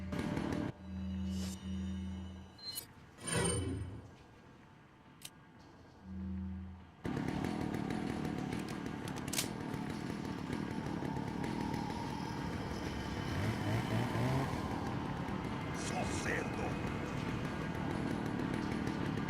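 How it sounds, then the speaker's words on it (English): A chainsaw in the Resident Evil 4 video game, heard first in short, separated revving bursts, then as a continuous buzzing roar that runs loud and steady to the end. "That fucking chainsaw."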